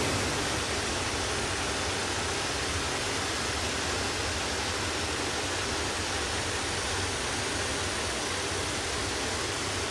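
A waterfall, a curug at Cikaso, crashing into its pool: a dense, steady broadband roar that holds at the same loudness for the whole stretch, with no voices over it.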